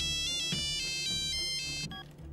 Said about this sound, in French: La sonnerie est mémorable exprès pour que le spectateur limite soit énervé de cette sonnerie